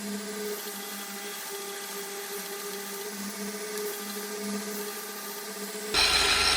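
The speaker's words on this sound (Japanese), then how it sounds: "プライス板で穴を開けます" A machine spins steadily with a droning hum while boring holes into a Damascus steel knife blank forged from N690 and 440C layers, ending in a sharper, louder burst of cutting noise.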